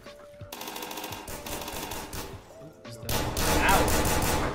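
Gunfire in the video game Metro, rapid heavy bursts of shots with impacts and crashes, loud and close, layered over game background noise.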